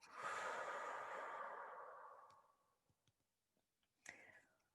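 A long, soft breath is exhaled during a relaxation and stress-management exercise, fading out over a couple of seconds, followed by faint clicks and a short second breath near the end.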